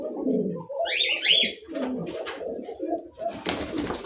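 Pure desi Lotan pigeons coo close by in repeated low, throaty bursts, with a brief higher chirp partway through and no speech.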